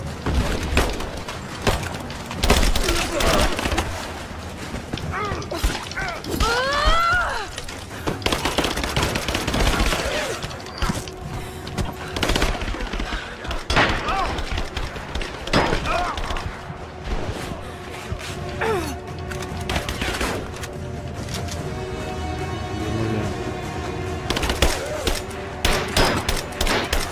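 Gunfire in the video game Rise of the Tomb Raider, with dense, repeated bursts and sharp cracks over a busy mix of game effects and music, loud and steady throughout the battle.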